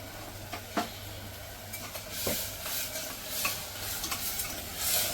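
Masala with turmeric sautéing in oil gives a steady close sizzle, with scattered spoon stirs and scrapes against the pan and no talking.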